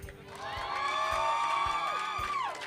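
A crowd cheers and whoops for Miles City at a Montana FFA state convention, a loud sustained roar of many voices with high shouts rising and fading over about three seconds.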